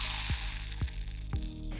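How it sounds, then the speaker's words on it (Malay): Kuih loyang frying in hot oil in a wok, a continuous close sizzle with three sharp knocks of the metal mould against the wok, evenly spaced about half a second apart. "Goreng sampai warna kuning keemasan, kacau-kacau, sentiasa balikkan supaya kuih pun garing sekata."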